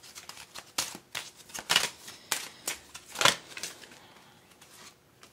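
A tarot card is drawn and laid on a table, giving several soft brushing card sounds and light taps spread irregularly across a quiet moment, with no voices.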